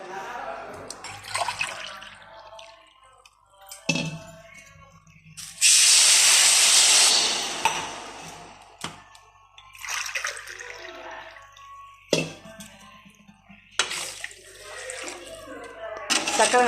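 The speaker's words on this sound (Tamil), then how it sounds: "அதுக்கு 2 கப் தண்ணி ஊற்றிக்கணும்" Water poured from a cup onto sugar in a pan while making halwa syrup, with a loud steady hissing rush at the centre and a person talking around it.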